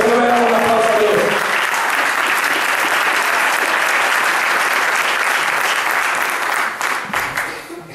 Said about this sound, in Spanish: Bendito Dios, no le damos un aplauso a Dios.